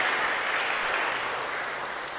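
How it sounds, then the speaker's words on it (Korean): A church congregation applauds during a Sunday worship service, a dense, steady wash of clapping filling the room at moderate volume with no voices over it. "우리 다시 한번 박수로 격려하도록 하겠습니다."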